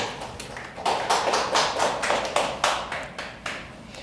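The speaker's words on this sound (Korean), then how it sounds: "하나님께 영광의 박수를" A church congregation claps in unison during Sunday worship, a steady run of sharp, regular handclaps, close and fairly loud, with no speech.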